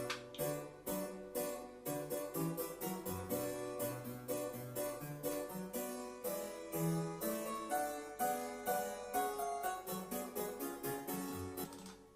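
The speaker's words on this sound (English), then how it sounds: "Harpsichord in solo sounds like this." A sampled baroque harpsichord plays Bach's Badinerie solo, with quick, bright plucked notes running continuously in a brisk, even rhythm, quiet and alone.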